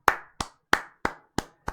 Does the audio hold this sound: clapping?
yes